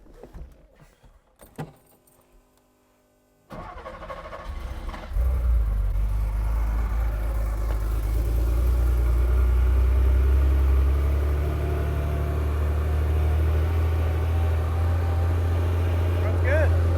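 Keys jangle faintly before a Porsche 911 Turbo Carrera engine catches at about three and a half seconds, then settles into a loud, steady low-pitched run close by.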